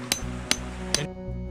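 A hammer strikes three times at an even pace while a DIY wood stove safety net is built at a camp, each a sharp metallic ringing hit close by, followed by a lingering hum.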